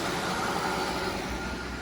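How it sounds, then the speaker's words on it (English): A Mercedes-Benz S600 W221 with its V12 idles quietly, a steady, smooth, low hum that holds even throughout with faint injector ticking beneath it. "Listen to that engine, guys, just nice and quiet."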